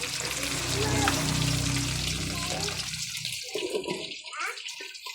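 Liquid bubbling and hissing in a pot, loud and steady at first, then dropping away to a few scattered gurgles and clinks.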